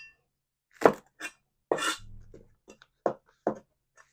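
A kitchen knife cuts a whole onion and green onions on a board in a quiet kitchen, giving a few sparse, sharp, close chops with gaps of silence between them.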